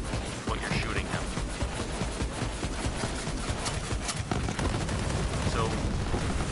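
Sustained, dense rapid gunfire from a weapon blasting a boss in a video game, a loud continuous barrage of overlapping shots and impacts throughout, with someone talking over it.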